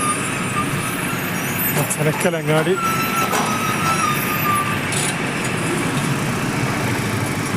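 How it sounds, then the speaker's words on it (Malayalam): A loaded truck hauling soil rolls past on a busy highway construction stretch, its engine a steady close rumble amid continuous traffic noise, with a brief tonal horn-like sweep in the middle and a voice speaking over it. "അങ്ങനെ മണ്ണിലെ ലോഡുമായി ഇതാ ഈശ്വരത്തെ കടന്നു പോകുന്നു"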